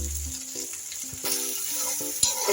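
Masala with chilli powder and a few raisins frying in a pan for a doi potol curry, a steady sizzle with occasional stirring scrapes, close and alone with no talk.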